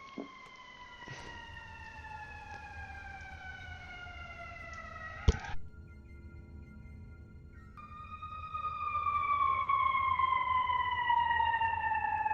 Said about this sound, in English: Oh, that's a siren from.